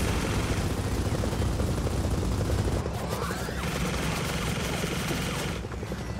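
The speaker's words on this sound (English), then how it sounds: "Are they still shooting rockets at us?" Dense, continuous explosive roar of rockets and weapon fire in Gears of War 4 fills the scene, loud and unbroken, with a brief shift in texture midway and whooshing streaks.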